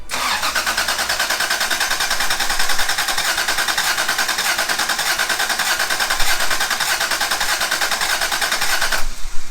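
A Toyota Supra rally car engine cranks over on a small borrowed battery, the starter churning in a fast, steady rhythm for about nine seconds before cutting off, loud and close with no talking.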